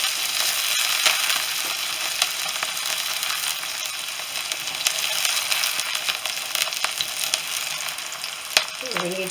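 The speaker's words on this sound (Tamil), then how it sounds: "நல்லா வதக்கிடுங்க" Chopped green chillies and the white part of spring onion sautéing in hot oil in a pan, with a continuous close sizzle, scattered crackles and pops, and occasional spatula scrapes, and no talking.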